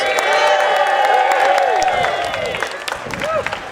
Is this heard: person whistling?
no